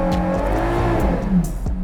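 A 2024 Ferrari Purosangue V12 engine revs hard and close, a loud, rich and continuous roar with pitch swinging up and down over about two seconds.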